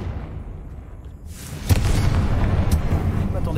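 A Confringo fire spell bursts in Hogwarts Legacy with a sudden loud blast, then gives way to a steady, dense roar that lasts to the end.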